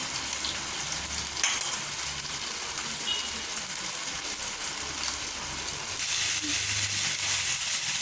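Vegetables fry steadily in a pan with a dense, even sizzle and hiss, and an occasional soft stirring scrape.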